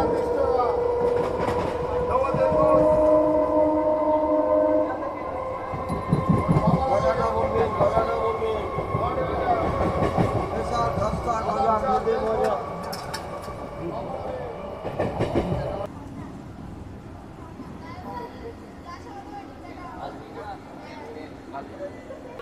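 A passenger train runs on the Howrah–Barddhaman chord line, rolling with rhythmic clickety-clack and steady rumble, loud and close, easing after a sudden drop midway, while a voice talks over it.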